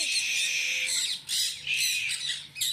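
A pet parrot squawks loudly and harshly, close by, in several long repeated bursts with brief gaps between them, in a home with kids around.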